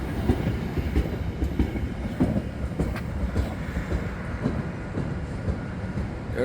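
A Metrolink commuter train passes at San Clemente North Beach, a loud continuous rumble with rhythmic wheel clatter over the rails, heard close and steady throughout.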